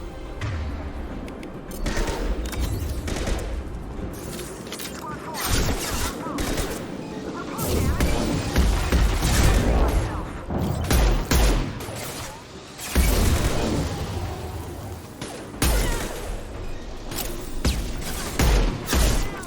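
Dense, booming gunfire from the Mass Effect 2 combat: heavy high-impact shots and rapid bursts of weapon fire with explosive thuds, loud and continuous across the scene, with voices calling out now and then over the battle.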